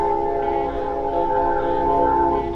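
A train passing in the background sounds its horn as a sustained, steady multi-tone chord for the whole stretch, moderately loud over a low rumble, with no talk.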